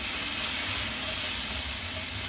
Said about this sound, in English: Let these onions cook up a little bit.